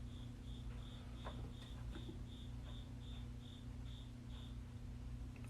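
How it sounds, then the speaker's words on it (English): A single cricket chirps in a steady, evenly spaced series of about a dozen short pulses. It sounds close and fairly loud over a low background hum, with no talking. "I hear another little cricket biddy"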